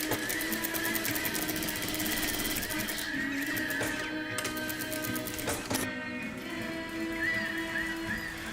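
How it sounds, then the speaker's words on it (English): An early-1900s hemming machine stitching hems, a steady continuous mechanical whir with fine rapid ticking and a few sharper clicks, fairly quiet and unbroken throughout. "This machine is from the early 1900s and it creates the most beautiful hems."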